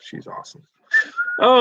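A whistle-style text message alert from a phone: a short rising whistled tone, then a brighter warbling note, heard close. A person talks briefly just before it.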